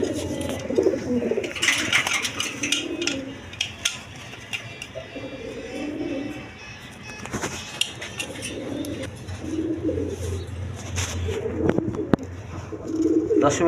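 Pigeons at a busy pigeon market coo in repeated low rolling bursts, close by, among clinks and background bustle.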